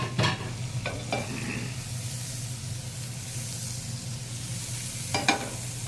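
Eggs frying in butter in a pan, a steady close sizzle and hiss running throughout, with a few sharp scraping clicks of a utensil near the start and again near the end.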